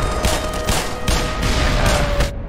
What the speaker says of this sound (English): so that's the mortar fire I'm talking about